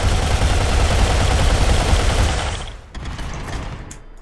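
Gunfire in the Rimworld video game rattles out as a dense, continuous fusillade of rapid shots, then cuts off, with a few scattered bursts following.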